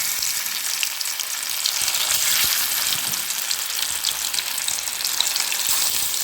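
A steady, close bubbling and sizzling from a pot of fish curry on the stove, continuous and fairly loud without letup.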